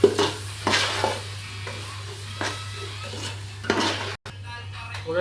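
Biryani masala being stirred in a cooking pot, a spoon scraping and clinking against the metal in several separate bursts over a steady low hum, with a faint sizzle underneath.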